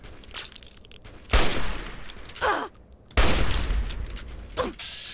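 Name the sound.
gunfire in the Fallout 3 video game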